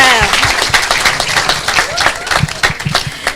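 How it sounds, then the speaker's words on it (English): An audience claps at a university program launch on an FX campus, moderately loud applause with distinct individual claps and a voice speaking over it. "Let's give a round of applause"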